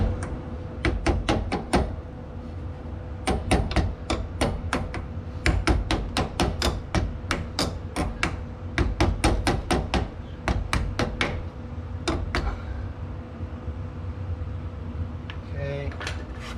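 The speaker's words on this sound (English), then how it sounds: "So I'm just gonna do this the old fashioned way with this closed in wrench." Trailer wheel bolts are worked loose with a closed wrench, giving a long run of sharp metallic clicks and knocks in quick irregular bursts, close and loud over a low background hum.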